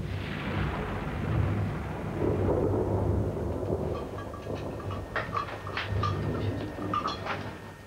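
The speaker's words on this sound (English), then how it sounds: "We have these wonderful tropical storms." A tropical thunderstorm at sea rolls with deep, sustained thunder rumbling loudly for several seconds, then lighter crackling and patter of rain as the thunder fades, heard from aboard a boat.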